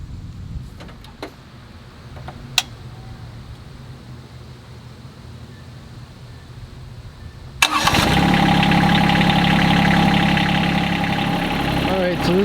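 A 2021 John Deere X758 lawn tractor sits quiet with a few faint clicks, then its engine cranks and catches abruptly, settling into a loud, steady running rumble close by.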